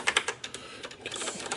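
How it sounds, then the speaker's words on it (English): Mechanical key clicks on a ROCCAT Ryos MK Pro gaming keyboard with Cherry Brown switches, close up: a few sharp keystrokes at first, then a faster, steadier run of typing with no talking. "Very excited to try out a proper gaming keyboard with cherry brown switches."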